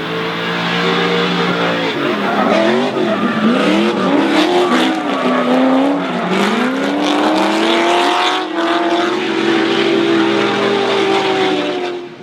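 Two V8 drift cars battle side by side at Taupo in a D1NZ drifting championship top-8 run, engines roaring loud and close with rising and falling revs, tyres squealing throughout, continuous for the whole stretch.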